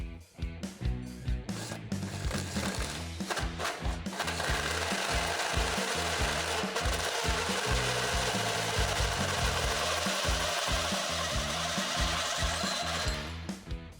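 Holes are cut into the steel frame rails of a 1971 Chevy Caprice. A power tool starts with choppy, rhythmic bursts, then settles into a loud, continuous grinding whine that runs for about ten seconds before cutting off.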